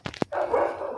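Two quick dog barks close by from dogs in kennel pens, followed by a sustained whining or droning sound.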